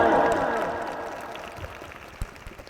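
An audience bursts into applause at a Hindi speech event, the clapping loud at first and then fading steadily to scattered claps.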